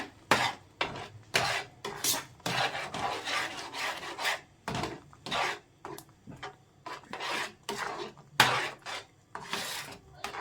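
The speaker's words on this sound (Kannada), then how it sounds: "ಎಲ್ಲ ಮಸಾಲೆನೂ ರುಬ್ಕೊಂಡು ಹಾಕ್ಕೊಂಡಿದ್ದೀನಿ ಚೆನ್ನಾಗಿ ಮಿಕ್ಸ್ ಮಾಡ್ಕೊಳ್ಳೋಣ" A spoon scrapes and stirs ground masala in a pan for paneer egg curry, giving rhythmic rasping strokes, close and crisp, repeating in quick irregular bursts with short pauses between.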